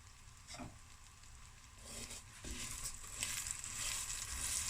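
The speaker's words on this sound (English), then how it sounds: "And the butter and the heat will fry the vermicelli and change color." Vermicelli fries in hot butter in a pan while being stirred for Boeber, a steady close sizzle with scraping stir sounds that grow louder and denser toward the end.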